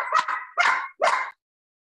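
A dog gives three sharp, close barks in quick succession, each a short yelping burst, with silence following.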